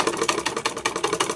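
A sewing machine stitches a folded hem in rapid, even needle strokes, a close mechanical chatter pulsing about seven times a second, with no voices.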